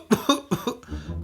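Four sharp coughs in quick succession, close and fairly loud, followed by a brief breathy exhale.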